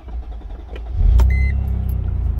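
A 1999 Mercedes-Benz CLK320 with a crankshaft sensor fault (code P0335) cranks briefly after a key click, then its engine catches and settles into a loud, steady low idle up close.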